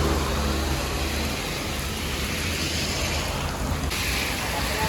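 Heavy rain falls steadily while people shelter under a flyover. It makes a dense, continuous hiss with traffic rumble underneath and no clear speech.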